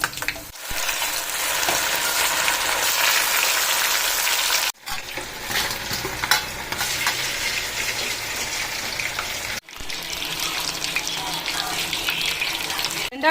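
Chicken manchurian pieces deep frying in hot oil, a steady loud hiss and crackle that runs in three stretches separated by brief breaks, close to the pan with no talking.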